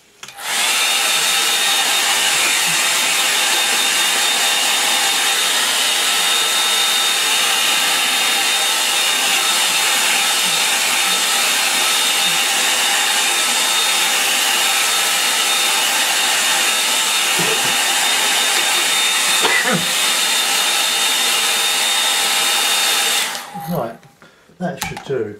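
A hair dryer blasts steady and loud at close range, drying ink on a line-and-wash painting, with a continuous whooshing whine for over twenty seconds before it cuts off abruptly.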